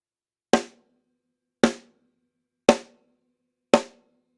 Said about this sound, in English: striking the drum head and the rim simultaneously to create a really loud sound that sounds like this